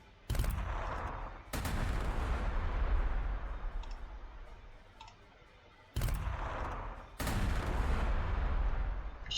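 Krak missiles firing in Warhammer 40,000: Sanctus Reach, four loud, abrupt launch blasts, each trailing into a rumbling roar that decays over a second or more, in two close pairs separated by a quieter lull.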